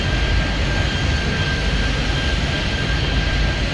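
A jet airliner takes off in the airport control game Airport Madness, a loud, continuous broadband roar with a faint steady whine on top, holding even throughout.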